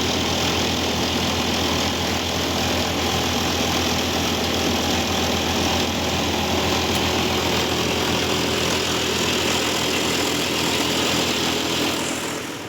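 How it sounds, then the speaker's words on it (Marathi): A flour mill grinds mixed seeds into flour for homemade cattle feed, giving off a steady, loud mechanical drone that holds constant throughout with no speech. "अण्णांनी या सर्व प्रकारच्या बिया एका मशीनमध्ये दळून घेतल्या"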